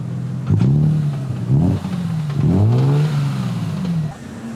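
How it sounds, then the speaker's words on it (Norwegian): A BMW drift car's engine revs up and drops back several times in quick succession, each rise a loud, near, rising whine over a steady idle rumble, with no voices. "Jeg skal bare altså girgass opp BMW-en"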